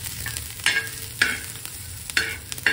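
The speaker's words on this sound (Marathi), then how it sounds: "आणि ते 1 मिनिट परतते." Ginger, garlic and onion sautéing in a pan, with a constant close sizzle broken by four or five sharp scraping stirs at a roughly even rhythm.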